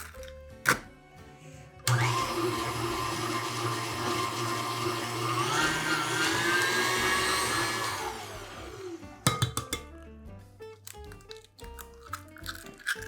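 Electric mixer whisking four eggs into a light foam, a steady loud whirring drone of about six seconds that rises slightly in pitch before cutting off, framed by clinks of the bowl.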